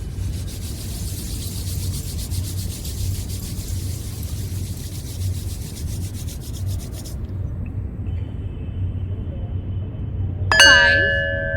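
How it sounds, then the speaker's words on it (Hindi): Palms rubbing briskly together during a guided meditation, a steady close whooshing friction that runs for several seconds, stops, and then gives way to a soft bell-like chime near the end. "अभी हाथों को रब करके आंखों पर लगाएंगे।"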